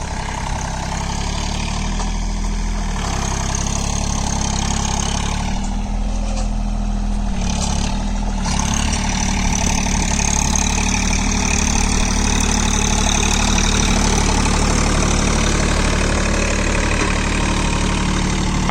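A John Deere 3028 EN 4WD mini tractor runs in second gear at about 1500 rpm while pulling a ridger, giving a loud, steady diesel drone close by with slight shifts in tone and no talking.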